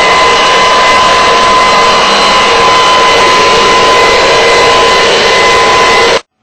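Cooling fan on an Nvidia FX 5800 graphics card roaring loudly and steadily, a dense whooshing drone with a persistent whine that holds unchanged for about six seconds before cutting off abruptly.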